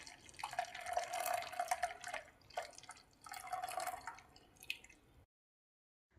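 Dissolved jaggery water poured through a kitchen strainer for puffed rice laddu, in two splashy, trickling bursts of liquid close by before it falls silent.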